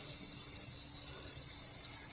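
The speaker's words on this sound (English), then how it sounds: "I am just applying a little bit of low pressure water" Low pressure water hitting a window during cleaning, a steady hissing spray heard close and alone for a couple of seconds.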